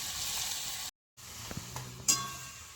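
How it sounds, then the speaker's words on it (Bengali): Susuni greens sizzle and fry in a pan as they are stirred. A soft, continuous hiss breaks off briefly, then resumes with a few light knocks and a sharp clink of the utensil against the pan, with no voices. "এবার আমি অল্প অল্প করে শাক দিয়ে একটু করে এরকম নাড়বো চাড়বো"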